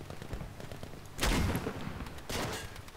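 Bursts of gunfire in Battlefield V aimed at a jeep on the Hamada map, a sharp volley early on followed by a second burst, loud and close over game ambience.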